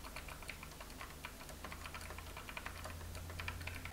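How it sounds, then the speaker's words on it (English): Rapid clacky keystrokes on a mechanical keyboard, a steady stream of crisp, fairly loud clicks with no talking. "just remember it's a mechanical keyboard."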